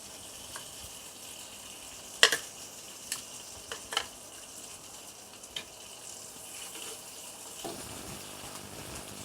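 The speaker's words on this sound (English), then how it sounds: "let's start the grill" Paprika prawns sizzle steadily on a hot grill, a close, even hiss with a few sharp pops and crackles scattered through, and a low rumble in the final seconds.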